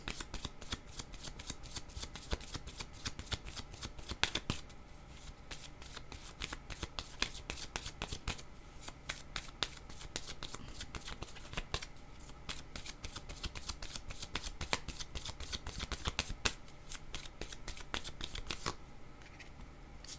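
A deck of cards is shuffled over and over for a card reading, giving dense, rapid riffling clicks and snaps that run close and steady throughout, with no voices.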